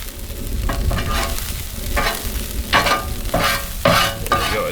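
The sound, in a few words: scraping bacon-fried corn off a Blackstone griddle top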